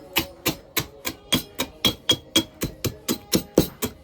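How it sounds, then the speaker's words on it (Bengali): Biscuits are crushed by hand for a cutlet coating, about fourteen sharp, evenly spaced thuds pounding in a steady rhythm, close and alone with no talking. "এই যে আমি বিস্কিটটা গুঁড়া করব, যেহেতু ওখানে আমার কাটলেটের দরকার হবে"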